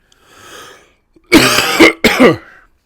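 A soft breath, then two loud, harsh coughs in quick succession, close up.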